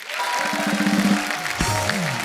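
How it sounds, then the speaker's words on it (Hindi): Television studio audience applauding to welcome actress Sonakshi Sinha on a comedy show, sustained loud clapping with music and a voice rising over it. "आप सबकी जोरदार तालियों में स्वागत करना चाहूंगा very beautiful and very talented Sonakshi Sinha"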